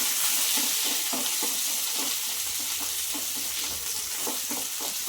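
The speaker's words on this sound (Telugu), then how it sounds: "ఆనియన్స్ ఇప్పుడు వేసుకున్నాము కరేపాకు వేసుకున్నాము" Onions and curry leaves frying in oil in a pan for green chilli chicken fry, a dense loud sizzle throughout with soft rhythmic stirring strokes beneath.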